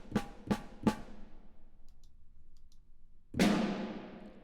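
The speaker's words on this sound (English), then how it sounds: "this is the sound of the close mic on the snare" Orchestral snare drum recorded close-miked at Air Lyndhurst Studios in London, striking three crisp hits in quick succession, then a pause and a louder, longer roll or hit that rings out; no voices.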